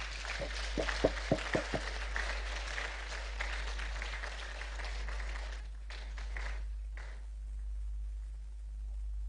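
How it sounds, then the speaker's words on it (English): Scattered applause from a media conference audience in Maiduguri, greeting Dr. Shetima. A few sharp claps open it, then the clapping thins into a faint, hollow room hum with a steady low electrical drone underneath. "So join me and give a warm round of applause for Dr. Shetima."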